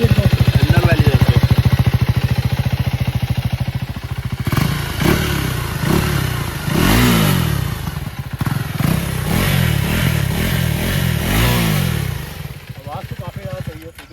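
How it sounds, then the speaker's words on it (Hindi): A KTM Adventure 390 motorcycle's exhaust idles with a steady, loud, close thrum, then rises in several short revving bursts while someone talks over it. "मैं आपको ना इसका एग्जॉस्ट नोट सुनाता हूँ, इसका एग्जॉस्ट नोट कैसा है"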